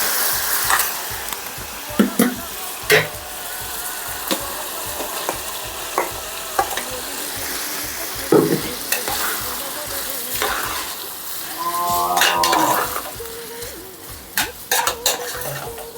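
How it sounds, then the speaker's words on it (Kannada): Brinjal and tomato chutney with ground spice paste is stirred as it fries in a pan, giving a continuous sizzle broken by sharp scrapes and clinks of a spoon against the metal. "ಇದಕ್ಕೆ ರುಬ್ಬಿಟ್ಟಿದ್ದಂಥ ಖಾರ ಕೂಡ ಸೇರಿಸ್ಕೊಂಡು ಮಿಕ್ಸ್ ಮಾಡ್ಕೋಬೇಕು."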